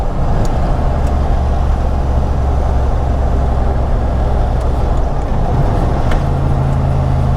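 Turbocharged 1993 Ford Mustang driving in fifth gear, a steady loud engine drone and road rumble running throughout with no talk, the low tone shifting slightly near the end as it slows.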